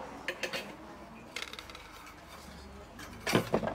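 Dishes and cutlery set down on a restaurant table with papaya salad and ice, a few separate clinks and clatters at close range, with a low murmur of background noise.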